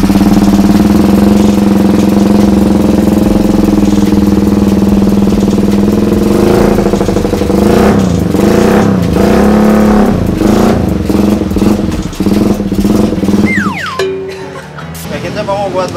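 A Suzuki Satria FU motorcycle engine, left unused for a few days, idles loudly and close up, then blips through several rising and falling revs before settling back toward idle.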